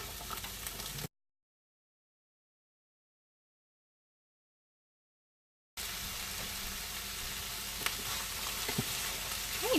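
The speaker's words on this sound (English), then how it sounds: "Now that we have everything sizzling real good" Oil sizzles and crackles steadily in a hot pan of onions and chickpeas, a close, continuous frying hiss, broken by a stretch of silence partway through.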